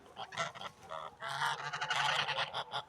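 Several domestic geese honking close by, a busy overlapping series of nasal calls in irregular bursts with no talking.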